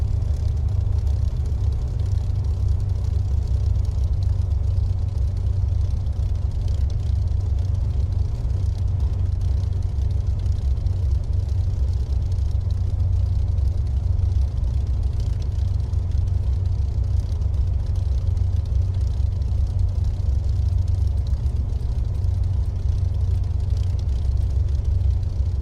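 Hawker Hurricane Mk1A fighter aircraft, its piston engine running in a steady, loud, deep rumble throughout with no breaks and no talk.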